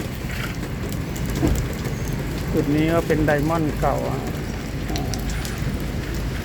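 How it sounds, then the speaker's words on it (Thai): Steady rain pours down outdoors while waiting for a shuttle to a casino, a continuous hiss filling the whole stretch, with someone talking over it partway through. "เพิ่มเติมคือวันนี้ฝนตกนะครับ"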